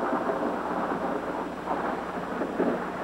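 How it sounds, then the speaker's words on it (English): Thunder crashing in a 1984 children's TV show story, a steady loud rumbling roar that fills the whole span with no break, like a storm overhead. "Thunder crashed, lightning flashed"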